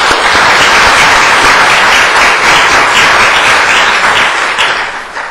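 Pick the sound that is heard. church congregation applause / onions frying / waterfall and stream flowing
church congregation applause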